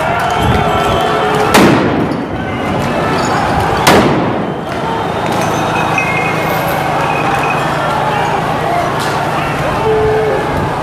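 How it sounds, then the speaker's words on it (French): Grenades exploding during a street clash between protesters and CRS riot police, two loud sharp blasts a couple of seconds apart over a constant roar of crowd noise, with a voice talking. "Manifestants et CRS se relancent les grenades"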